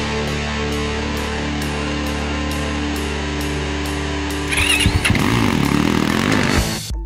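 A dirt bike engine fitted with an FMF Factory 4.1 anodized titanium slip-on muffler with carbon cap idles steadily with a loud, even drone, then is revved hard in rising bursts near the end.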